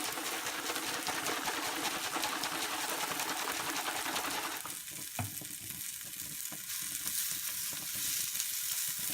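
Ingredients for a vegan omelette made with JUST Egg fry in a pan with a steady hissing sizzle, occasional stirring scrapes, and the sizzle dropping slightly quieter about halfway through.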